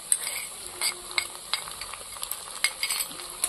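Ginger-garlic paste hits a pan of reddened fried onions, giving a soft, steady sizzle broken by light clicks and scrapes of stirring, close but fairly quiet.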